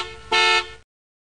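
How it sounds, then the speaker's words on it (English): Cartoon car horn in a kids' puzzle game: a steady honk that swells into one louder, brighter blast in the middle, then fades and stops, leaving silence. "Car."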